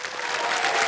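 Studio audience on a KBC quiz-show set breaking into a dense, steady round of applause, loud and close throughout with no pause.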